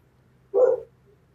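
A single short, near bark from a dog next door, standing alone against a quiet background hum.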